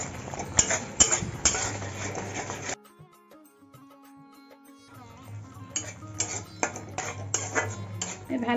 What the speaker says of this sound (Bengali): এবার সব মশলা ভালো করে কষিয়ে নেব।